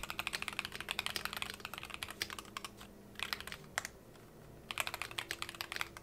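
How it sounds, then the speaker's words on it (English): Typing on a D65 mechanical keyboard fitted with tactile Everglide Moyu Black switches: rapid, clacky keystroke bursts, close and clear, broken by two short pauses. "Here's a quick typing test."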